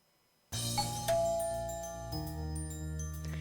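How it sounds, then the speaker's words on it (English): Soft, elegant doorbell chime in a magical-girl dating video game, a layered ringing tone with several sustained notes that bloom and decay, heard clearly and alone against quiet background music. "The sound of the doorbell is elegant and serene."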